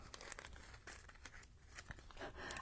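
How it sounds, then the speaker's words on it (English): A plastic bag crinkles and rustles continuously as it is handled at close range while shaker cards are being made, with sharp crackling bursts throughout and no talking. "I don't like trying to deal with plastic bags."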